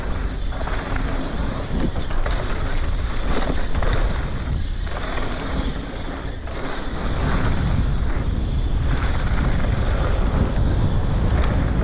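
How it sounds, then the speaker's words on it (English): Wind buffets the microphone while a mountain bike rides a red trail at Super Morzine in 2023, a loud, constant, rumbling roar with gusty swells and a brief lull midway, without speech. "Bit of wind then."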